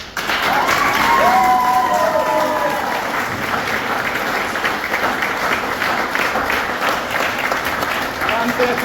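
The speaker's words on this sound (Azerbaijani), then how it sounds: "Ən böyük alqışı sizlər üçün" Sustained audience applause closing a student music concert at a national arts venue, dense steady clapping filling the hall for several seconds, with a few cheers and a brief voice near the start.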